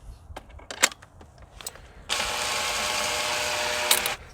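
A drill chuck being tightened with a chuck key on a quick-cut salad greens harvester: a few sharp ratcheting clicks, then a steady whirring mechanical burst for about two seconds, close and moderately loud, with no talking.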